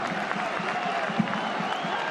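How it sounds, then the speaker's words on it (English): Football stadium crowd at HBF Park during an A-League match, Perth Glory against Sydney FC, a steady moderate roar of many voices with a commentator talking over it. "Crowd sensing something here at HBF."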